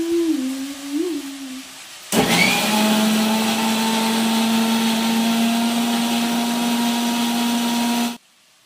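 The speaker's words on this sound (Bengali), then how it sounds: "আর এখানে মিক্সিতে এই যে বিট, এখন এটাকে আমি পিষে নেব, তারপরে জুস বানাবো মিক্সিতে।" A mixer grinder whirs loudly and steadily as it blends beetroot for juice, starting abruptly after a quieter lower-pitched hum and running for several seconds before cutting off.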